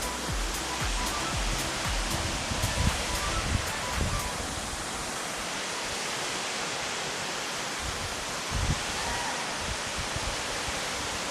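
Gundala waterfall heard from high above, a continuous broad roar of falling water that stays steady and fairly loud, with a few brief bumps and rustles near the microphone.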